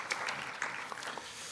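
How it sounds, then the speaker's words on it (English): Conference audience applauds a talk show host introduced as a speaker, a short spell of moderate clapping. "please give a big round of applause"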